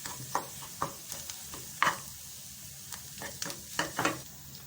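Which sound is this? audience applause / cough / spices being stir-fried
spices being stir-fried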